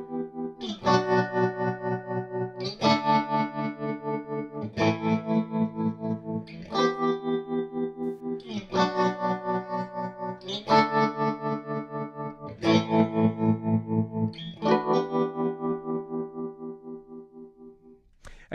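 Electric guitar run through a Flux Effects Liquid Tremolo pedal on its spin waveform, strummed chords repeating in regular bursts, each one pulsing in a fast rhythmic throb, loud and clean with nobody talking.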